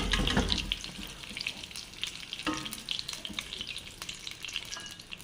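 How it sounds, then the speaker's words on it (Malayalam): Chicken 65 pieces frying in hot oil, a loud, close steady sizzle with bubbling crackle and occasional clinks of stirring, no talking. "ചിക്കൻ കഷ്ണങ്ങളെല്ലാം റെഡി ആയിട്ടുണ്ട്. നന്നായിട്ട് ഫ്രൈ ആയിട്ടുണ്ട്."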